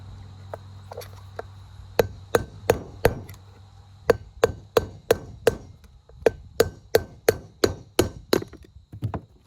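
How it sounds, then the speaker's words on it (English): Old wheel bearing hammered out of a heavy-duty utility wagon wheel with a flathead screwdriver, giving a close series of sharp metallic strikes in steady rhythmic runs of about five blows, separated by short pauses. "Pound that old bearing out."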